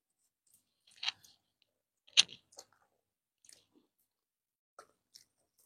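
Eating rice with garlic kuzhambu, cabbage kootu and omelette, a few close, distinct chewing and biting sounds spaced apart against silence.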